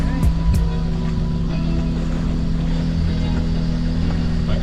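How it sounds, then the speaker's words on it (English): A boat engine runs steadily after a hose repair, a close, even idling drone with a couple of brief sharp clicks near the start. "Alright, we got our engine back on"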